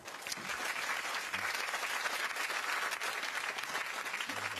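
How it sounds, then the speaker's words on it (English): Steady applause from a studio audience fills the whole stretch, dense clapping at an even level without breaks. "Give him a round of applause."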